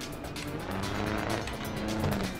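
Post-apocalyptic truck driving in the Trailmakers video game, a steady loud engine drone with tire squeal and rumbling, continuous with no talk.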